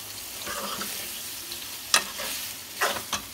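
Chicken liver and offal fry in a pan in a village kitchen, a soft sizzle broken by a few sharp scraping stir strokes near the middle and end.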